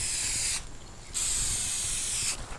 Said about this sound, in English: Just gonna spray them here. Just gonna do a nice black on them just to freshen them up.